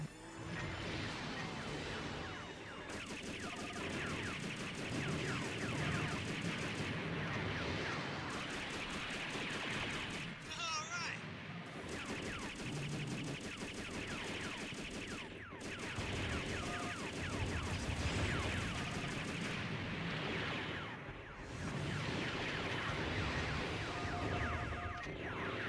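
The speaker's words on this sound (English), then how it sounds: "Assault's missiles." Salvos of missiles fire in the Robotech video game as rapid, rattling bursts, repeated in long stretches with brief gaps, heard amid busy game effects and music.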